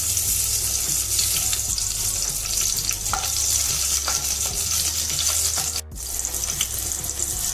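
Green chilies frying in hot oil in a pan for a smoked brinjal curry, a loud steady sizzle with occasional stirring clinks, briefly interrupted near the end.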